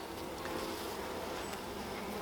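A continuous, faint buzzing drone of many honey bees at a hive, steady and even throughout, with no voices.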